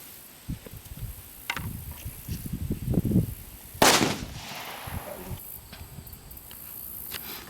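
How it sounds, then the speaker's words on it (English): A string of sharp pops from individual firecrackers off a firecracker strip, a scattered burst of small cracks followed by one loud bang, then faint crackling trailing off. "Remember, these are the individual firecrackers."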